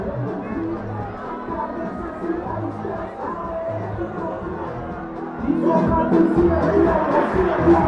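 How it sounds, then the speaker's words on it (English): A crowd roars at a rugby match between Tygerberg and UCT Ikey Tigers. A steady babble of many voices swells noticeably louder in the last few seconds, and nearby voices mix in. "The crowds will tell you what a kick it is. Can you hear the roar?"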